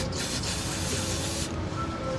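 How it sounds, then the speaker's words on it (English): Brake cleaner sprayed onto an oily race engine, a close, loud hissing aerosol burst lasting about a second and a half, followed by a quieter steady hiss. "I'm going to spray it all down with brake clean"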